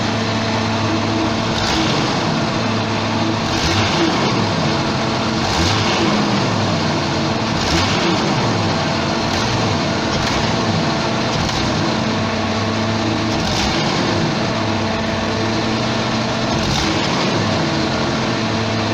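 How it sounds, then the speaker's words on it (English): A 1989 Jeep XJ engine idles steadily with the air conditioning loading it, a continuous close mechanical hum with slight periodic dips suggesting a faint stumble throughout. "I've now turned on the AC unit, so there's some load on the engine."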